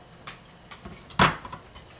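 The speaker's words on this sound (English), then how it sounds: "with the back of a spoon, I'm just incorporating the garlic into the butter" A spoon works chopped garlic into a softened stick of butter in a bowl, giving a few soft scraping taps and one louder clink of metal against the dish, close and without talk.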